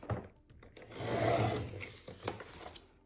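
A short rasping cut as the top part of a bag is trimmed off, a soft scraping rub swelling briefly in the middle, close and quiet with no talking.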